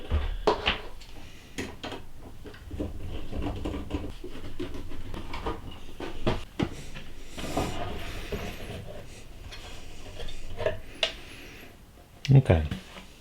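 A sensitometer casing being opened by hand, with scattered clicks, taps and clattering handling sounds of the housing under steady talk.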